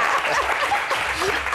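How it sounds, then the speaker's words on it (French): Brief burst of audience applause during a live quiz show, dense clapping mixed with chatter and light laughter. "Public, on applaudit."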